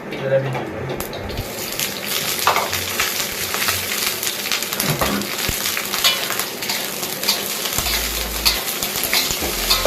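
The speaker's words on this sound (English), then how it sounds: "Fry the potato." Potatoes frying with shallots or garlic in a home kitchen pan, a steady broadband sizzle running throughout with occasional scrapes and clinks of stirring, close and fairly loud, no talking.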